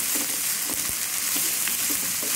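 Green beans sautéing in a pan for a South Indian poriyal, giving a steady close sizzle with faint stirring scrapes and no talk.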